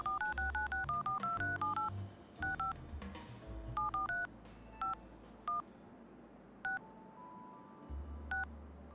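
Telephone keypad tones beep in Leisure Suit Larry 2: a rapid run of dialing tones, then a few spaced single beeps, all clear and up close.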